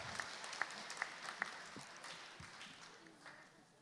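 Applause for a young vocalist at a talent show stage event, a moderate burst of clapping from a hall audience with a few sharper claps early on, fading over a few seconds.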